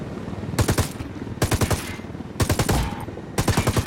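Ghost Recon Wildlands gunfire in four close, loud bursts of rapid automatic shots, each a quick rattling string separated by short pauses.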